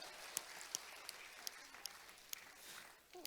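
A church congregation gives a round of applause, a soft, even wash of many hands clapping heard from a distance, with a few louder individual claps standing out at intervals.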